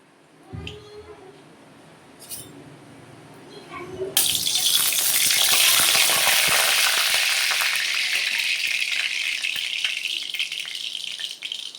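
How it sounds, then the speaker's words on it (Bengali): Black cumin and radhuni spices hit hot white oil in a wok with a sudden loud, hissing sizzle that holds steady, after a few quieter clinks and movements. "আমি একটু ফোড়নে কালো জিরে আর রাঁধুনি ফোড়ন দিয়ে দিলাম"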